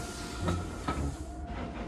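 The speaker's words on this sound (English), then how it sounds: "Meanwhile, James puffed along his route" A steam locomotive in a children's animated railway story chuffs along its route, with a steady rolling rumble, a constant hiss, and two soft puffs in under two seconds, with no voices.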